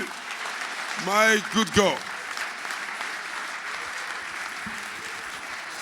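A church revival crowd applauds and cheers for Jesus as a continuous wash of clapping, with a voice speaking briefly over it near the start.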